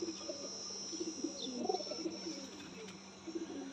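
Pigeons in a breeder's loft coo softly and repeatedly, low rounded calls rising and falling over a steady background hiss, with no talking.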